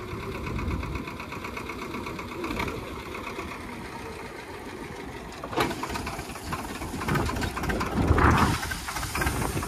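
Swaraj 724 XM tractor engine running with a fully loaded trolley, a continuous rattling, knocking chug at mid distance that swells in a few louder bursts, with no talking.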